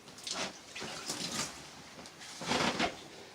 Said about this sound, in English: we're going to lift this thing up and expect to spit a bit of water